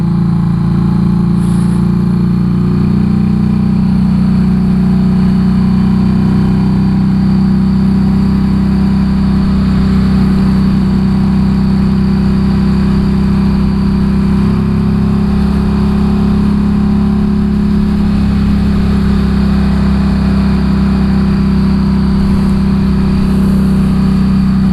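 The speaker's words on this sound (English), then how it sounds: "that incredibly fucking loud Harley Davidson" A loud Harley-Davidson motorcycle engine rumbles continuously inside a tunnel, a deep, steady drone heard close from the rider's position with slight swells in throttle and no speech.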